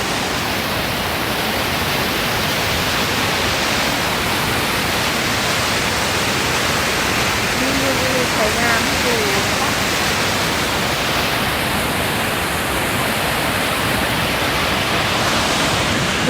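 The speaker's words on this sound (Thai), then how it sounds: "มันก็เลยเป็นน้ำตก อย่างที่เห็นนี่แหละจ้ะ ไหลลงมาจากภูเขา" A waterfall of melting snow pours down a mountainside in Norway, a steady, loud, broadband rush that holds unbroken throughout, with only faint hints of a voice beneath it.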